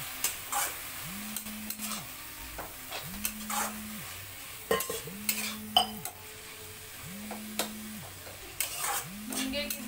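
A spoon stirs drumstick-leaf bhaji with chana dal in a pan, making soft scraping and clinking strokes over a low sizzle, with a repeating hum underneath.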